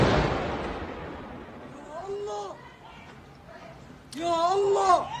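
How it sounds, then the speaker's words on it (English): A heavy blast at a hospital in Gaza opens with a loud, rumbling burst that decays over about a second, followed by distant shouting voices that swell again toward the end. "A horrible explosion took place at the hospital."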